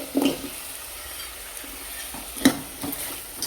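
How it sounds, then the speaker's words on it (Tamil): Potatoes with turmeric powder sautéing in a pan, a low steady sizzle broken by a few soft stirring scrapes and knocks, close and alone with no talking. "போட்டு ஒரு நிமிஷம் வதக்கிக்கோங்க"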